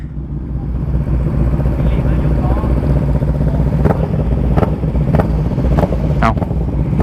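Kawasaki Z800 motorcycle engine idling and revving at night during wheelie practice, a steady loud rumble with sharp clicks and clatter, while people talk over it.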